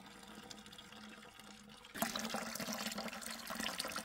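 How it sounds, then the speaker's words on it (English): Cold, clear well water gushes from a 12-volt solar deep well submersible pump, starting abruptly halfway through as a loud, steady rushing splash after a quieter stretch of faint trickling. "We have got water coming out of here, man."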